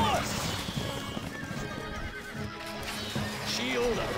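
Horses in a Stronghold Crusader battle give a whinny at the start and another near the end over steady hoofbeats. The mix is busy and moderately loud, and faint background voices run beneath.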